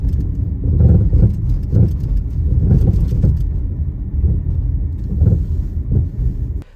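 Hollow suspension noise from a rental car driving down the road: loud low rumbling road and engine drone with repeated thuds and knocks pulsing through the cabin, continuous and close.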